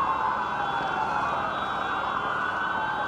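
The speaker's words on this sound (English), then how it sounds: "Now we're seeing a large LAPD presence roll onto the scene here with the sirens blaring." LAPD police cars rolling onto a protest scene in Hollywood with their sirens blaring, a loud continuous wail that holds steady for the whole stretch.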